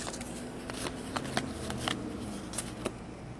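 Basketball trading cards being shuffled and handled during a 2010-11 Classics box break, a run of soft papery flicks and slides with a few sharper snaps, close and fairly quiet, no talking.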